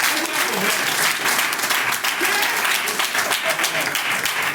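Lively audience applause at a Forever Living Products training session in Togo, a thick, continuous patter of many clapping hands, fairly close and loud, with voices faintly mixed in beneath.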